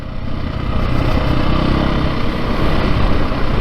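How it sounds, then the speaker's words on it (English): A 2022 Beta 430 RR-S dirt bike's engine runs steadily and loudly, a continuous rumbling drone at an even pitch with no talk over it. "Man, this bike's just so happy at whatever RPM, whatever speed"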